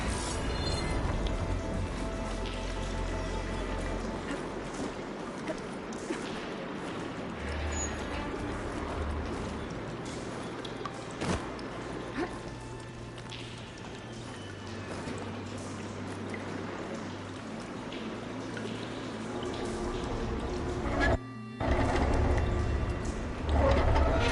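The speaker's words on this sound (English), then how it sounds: "Aloy, I can hear water in the room again." Water rushing steadily through pipes after a valve is opened in Horizon Forbidden West, a continuous broadband flow that holds throughout, with a brief dropout and a slightly louder surge near the end.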